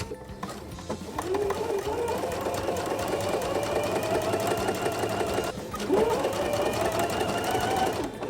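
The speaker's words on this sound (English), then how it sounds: "So now I'll just go ahead and stitch a 1/4 inch seam allowance." A sewing machine runs steadily, stitching a 1/4 inch quilt seam, a close, continuous whirring hum that briefly slows near the end before picking back up.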